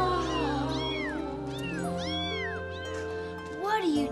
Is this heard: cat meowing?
yes